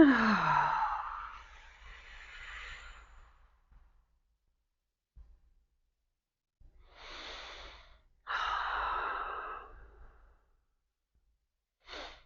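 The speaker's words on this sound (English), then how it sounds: "Deep breath in." Deep, slow breaths fill a quiet room during a relaxation session: a long exhale, then a pause, then a soft inhale and another long audible exhale, close and alone.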